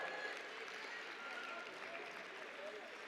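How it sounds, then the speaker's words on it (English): Faint, steady clapping from an audience at a student athlete awards ceremony, heard from a distance for a few seconds with a muffled voice beneath it. "Give yourselves a round of applause,"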